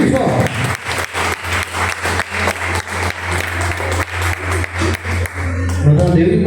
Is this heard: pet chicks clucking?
no